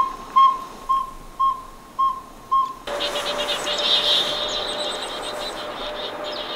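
Wild birds mobbing near a speaker playing pygmy owl calls in Montana: five evenly spaced whistled notes, then a busy chorus of overlapping chirps and calls from several birds at moderate distance.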